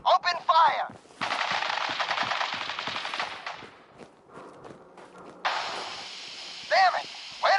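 Rapid bursts of automatic gunfire from the video game Fallout 4, two long, loud volleys of dense shots, with brief shouted voices before and after.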